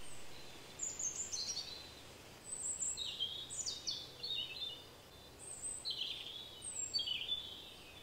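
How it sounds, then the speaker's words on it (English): Birds singing in the woods by a chateau, several bright chirping phrases repeating at intervals, faint and somewhat distant over a quiet hum. "listen to the noise of the woods and the birds"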